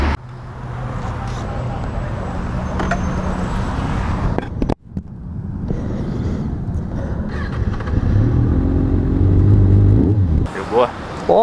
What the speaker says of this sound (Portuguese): ver como é que é andar com essa moto, primeira vez nessa Kawasaki 636.